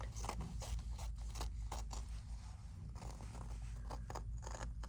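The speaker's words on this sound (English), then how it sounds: "So I'm moving the fabric I'm cutting rather than my scissors." Repeated crisp snips of Karen K Buckley scissors cutting through fabric, close by, in an irregular rhythm over a steady low background hum.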